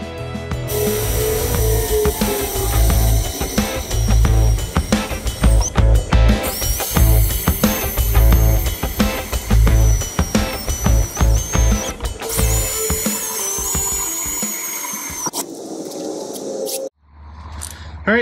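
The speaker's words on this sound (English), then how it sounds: "So I'll get these other three drilled." Power drill boring pilot holes into a Berkeley 12JG jet boat pump while fitting a bowl stuffer, bursts of whining drilling broken by brief pauses, loud and close, with workshop clatter.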